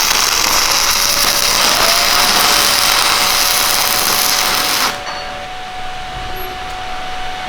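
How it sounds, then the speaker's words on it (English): Stick welding arc tacking steel, a loud, steady crackling hiss that runs for about five seconds and then cuts off abruptly, leaving a quieter background hum. "Put my rod in my Stinger. All right. Get ready, and then you're going to strike up."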